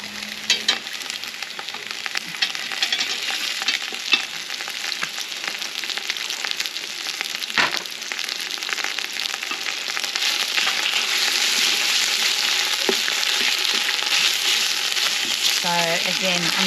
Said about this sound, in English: I'm just mixing that through, trying to break up that meat a little bit